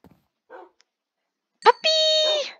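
A Minecraft dog gives a short bark followed by a sustained whine, close and clear, after a few quiet murmured sounds.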